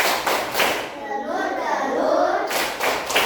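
Rhythmic hand clapping in a classroom clapping game, the butterfly clap, with several sharp claps opening and closing a steady patterned stretch, close and fairly loud.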